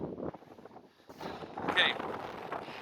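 Gusty wind buffeting the microphone in low rumbling bursts on a hill walk near Parkhouse Hill and Chrome Hill, easing briefly then surging louder again.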